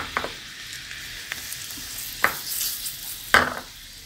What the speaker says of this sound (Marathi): आपण जे काढून ठेवलेले मसाले, लसूण जे आपण तडका दिलाय तो याच्यात मसाल्यात टाकायचा आहे